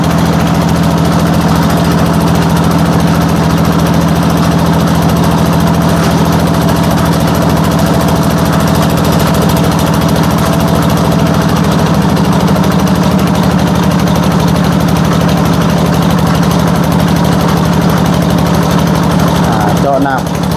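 A water well drilling rig's engine drones at idle throughout, a low constant rumble with a faint mechanical hum above it and no change in pace.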